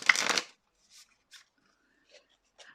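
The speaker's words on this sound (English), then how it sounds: "Drawing 2 cards." Cards drawn from a Moonology oracle deck: one brisk riffle-like shuffle at the start, then a few soft, separate slides and taps of cards in an otherwise quiet room.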